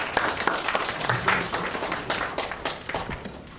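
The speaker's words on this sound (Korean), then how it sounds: "박수로 좀 맞이해 주시기 바랍니다" A burst of applause from a conference audience, scattered hand claps blending into steady clapping that tapers slightly toward the end.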